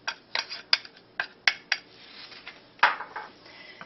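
A small spoon clinks and scrapes inside a container of olives, with a quick series of close metallic taps and scrapes at an uneven rhythm.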